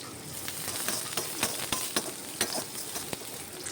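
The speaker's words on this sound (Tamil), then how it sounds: "இதோட நம்ம கட் பண்ணி வச்சுருக்க வெங்காயமும் சேர்த்துக்கலாம் இப்போ வெங்காயம் நல்லா வதங்கட்டும்" Chopped onion sautés in hot oil with mustard seeds and popped cumin, a steady close sizzle broken by repeated sharp scrapes and clinks of a spatula stirring the pan.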